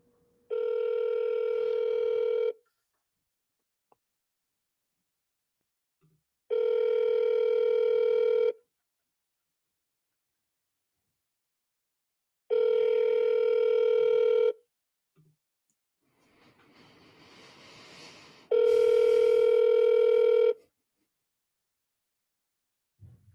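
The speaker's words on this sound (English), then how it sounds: "I'm going to call." Three steady telephone tones ring out in even bursts of about two seconds with long gaps between them, then a burst of rustling noise comes just before a fourth tone, all clear and close.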